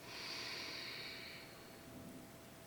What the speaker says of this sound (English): take a nice deep breath in through your nose